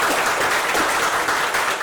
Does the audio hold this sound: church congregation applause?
yes